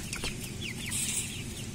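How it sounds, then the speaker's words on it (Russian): A black hen clucks in a farmyard, giving a few short calls over steady background noise, with no one talking. "идет черненькая курица"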